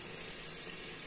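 Onions frying in a pan for chole in a home kitchen, giving a steady, close hiss of sizzling that holds at an even level throughout with no talk.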